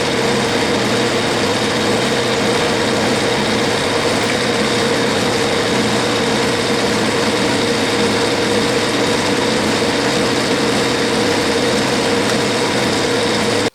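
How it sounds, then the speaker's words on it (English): A metal lathe turns down steel stock for an index pin on a gear-cutting fixture, producing a loud, unbroken mechanical whir with a steady tonal hum throughout. "I'm going to turn the material down to 230 thousandths, arbitrary amount, up to the red line"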